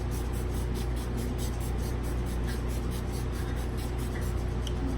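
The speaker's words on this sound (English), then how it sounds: "let's go ahead and spray the face" Setting spray, a hydrating primer, is misted onto a face in a series of rapid, rhythmic pump spritzes, heard close and fairly soft over a steady low background hum.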